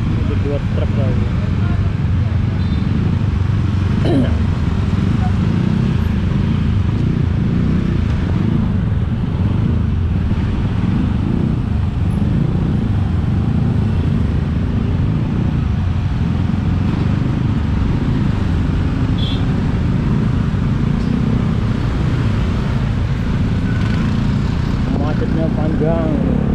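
Stop-and-go traffic on a jammed road in Bali, with trucks idling and rumbling in a constant low drone, someone talking over the engine noise throughout.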